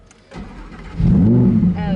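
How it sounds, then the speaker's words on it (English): A Lamborghini Huracán Performante is started with a push button: a brief starter whir, then the engine catches and settles into a loud, close, rumbling idle while people talk nearby. "So if you want to start it, you flip up that red switch and hit the button underneath."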